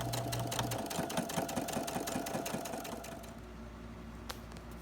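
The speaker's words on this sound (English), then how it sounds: "I'm top stitching about 1/8 of an inch." A sewing machine top stitches about an eighth of an inch along a skirt seam made from African print fabric, a steady close rattle of needle strokes that stops after about three seconds, leaving a low hum and one small click.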